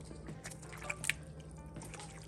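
Soursop pulp squeezed by hand in a bowl of added water for juice, giving soft wet drips and small liquid splashes against a steady low hum, with a couple of brief sharper drops near the middle.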